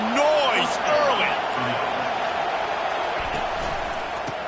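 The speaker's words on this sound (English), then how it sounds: "This crowd bringing the energy and noise early." Crowd noise fills a College Football 25 video game stadium as a dense, steady roar of cheering with a few whoops rising early, loud and continuous, while a commentator talks over it.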